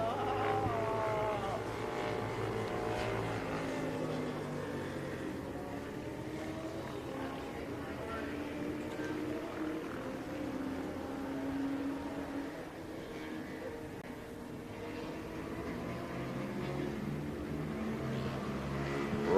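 Super Motard motorcycles racing on a road race track at an AHRMA national event, their engines a sustained droning whine that rises and falls steadily, heard from some distance under a commentator's voice.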